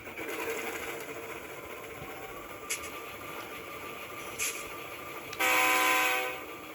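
A Proto 2000 ALCO PA-1 model diesel locomotive's sound decoder rumbles steadily, then its horn sounds loudly near the end, with a couple of brief clicks earlier.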